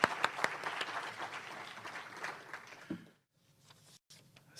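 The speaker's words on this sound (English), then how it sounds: "Let's give her a hand applause." An audience at a Rotary club year-end changing-of-the-guard meeting claps, a dense, moderately loud applause that fades out after about three seconds, followed by near silence with a few stray claps.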